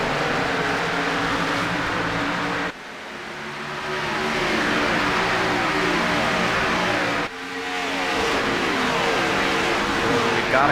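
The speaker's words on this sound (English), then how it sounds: "Let's listen to the roar of these Cup cars." NASCAR Cup Series race cars roar loudly and continuously at the green flag, engines revving and surging with brief dips between bursts, a dense pack of cars close by.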